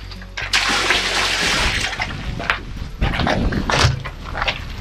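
Water gushes steadily from an outdoor spigot fed by a copper line through the wall, tested at a farm's milk room; a loud, continuous rushing splash with a few brief knocks and spurts, heard alone.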